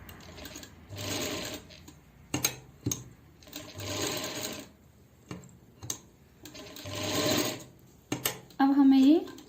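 Sewing machine stitching a wave design along a pant bottom hem, running in several bursts of rapid mechanical whirring separated by short pauses and clicks, close and fairly loud.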